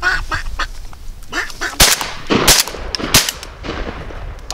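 Shotgun blasts during a duck hunt, several sharp loud reports ringing out among repeated duck quacks, with brief voices nearby.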